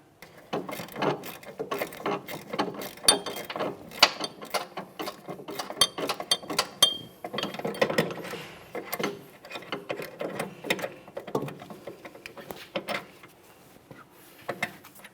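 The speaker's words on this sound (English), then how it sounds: "we'll be using a 3/16 Allen head to hold the stud and a 14mm to remove the nut." A ratchet loosens the 14mm sway bar link nut on a 2003-2007 Honda Accord rear suspension, with rapid irregular clicking bursts and metallic taps, close and fairly quiet, with no talking.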